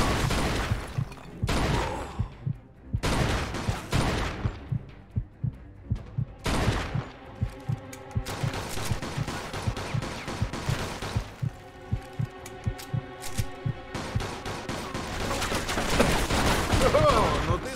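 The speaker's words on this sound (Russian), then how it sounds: "Сверху палят!" Gunfire from above in the Mafia II shootout comes as sharp bursts of shots in quick clusters, loud and close, with gaps between volleys and longer rattling stretches later, over game ambience and voices.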